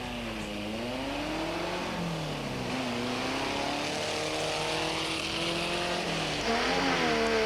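Volkswagen Beetle race cars lapping around the Royal Swazi Sun Hotel in the 1988 Swazi Spa 500 qualifying, engines revving and rising and falling in pitch as they accelerate and pass, loud and continuous.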